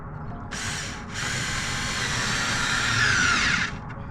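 A power driver runs T15 screws into a C8 Corvette rear diffuser and support bracket, giving a close, loud whir in two bursts with a brief pause between them, pitch sliding as the screw seats.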